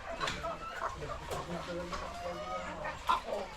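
Several chickens cluck and murmur close by in a steady, busy chorus, with a few sharper calls standing out.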